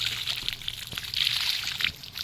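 Water is poured onto the roots of a garden plant, a steady, fairly close trickle and splash onto soil with no voices.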